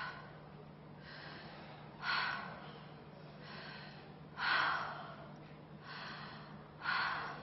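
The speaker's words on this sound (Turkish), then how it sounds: "İlk başta ağzınızdan derin derin nefes alıyorsunuz." A person takes deep breaths through the mouth in a breathing exercise, several slow, rhythmic audible inhales and exhales, close and fairly quiet, with no speech.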